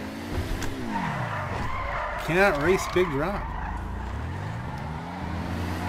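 An Imorgon electric car in GTA 5 Online drives on a stunt track, its motor whine rising and falling with tire squeals and skids, while someone talks over the driving.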